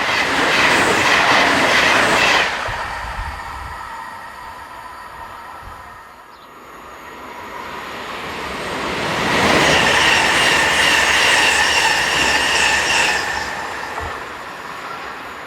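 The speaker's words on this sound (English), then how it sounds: "3 Class 612 diesel units head south with the 1732 from Nürnberg to Lindau" Three coupled Class 612 diesel multiple units pass near Meitingen heading south toward Lindau. A loud rush of engines and rail noise with wheel squeal and clickety-clack fades to near silence, then a second loud pass follows.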